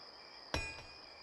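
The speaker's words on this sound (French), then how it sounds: "C'est le bruit d'une pioche." One sharp metallic pickaxe strike on rock rings out once, then a faint echo, over a steady high insect-like hum in a quiet, dark space.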